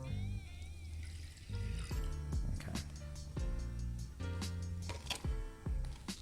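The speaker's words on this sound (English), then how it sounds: "First, let's add our water." Water is poured into a pot for spicy Korean soft tofu stew, a continuous splashing and trickling stream close by, with clanking of the pot and utensils throughout.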